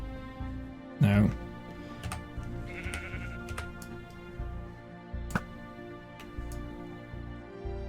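Sheep bleating in Minecraft, a loud nasal bleat near the start and fainter bleats later over a game soundtrack, with a player talking throughout.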